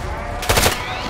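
Enemy gunfire in a Call of Duty campaign mission aboard a ship, a short burst of rapid shots rising over a steady background of game noise and music.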